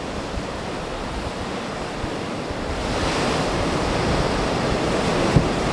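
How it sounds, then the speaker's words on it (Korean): Ocean waves crash and spray onto a rocky shore in Yeongdeok, a continuous loud roar of surf with wind buffeting the microphone, swelling slightly toward the end. "와, 여기까지 날린다, 파도가."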